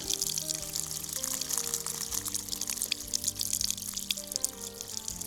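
Water pouring out of a pipe in a garden in Piedmont makes a faint, steady rushing splash that continues for several seconds over a low background hum, with no talking.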